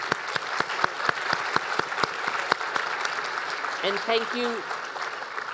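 An audience claps at a regional administrators' summit lunch keynote. Moderate steady applause with distinct individual claps runs throughout, and a voice speaks briefly near the end.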